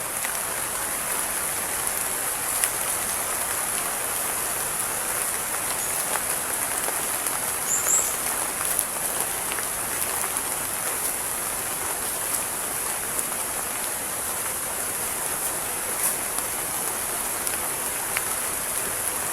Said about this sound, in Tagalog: Malakas na ang bugso ng ulan.